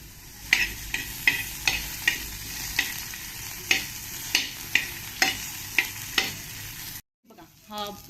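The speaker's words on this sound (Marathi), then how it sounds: "तो आपल्याला भाजून घ्यायचा आहे खूप नाही भाजायचा आहे" Onion roasts lightly in a pan with a little oil, sizzling steadily under evenly spaced spatula scrapes that repeat roughly every half second, close up, before the sound cuts off abruptly near the end.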